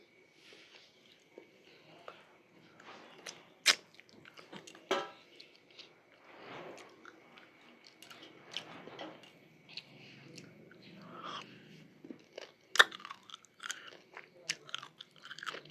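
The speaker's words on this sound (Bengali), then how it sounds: "ভাত খাচ্ছি খেতে খেতে" Close, moist chewing of a rice lunch, with soft crunches and bites coming in irregular bursts, and quiet talk now and then in between.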